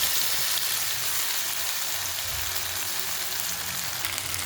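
Potatoes frying in coconut oil in a pan for a Kerala potato mezhukkupuratti, giving a steady, dense, close sizzle that runs unbroken throughout with no talking.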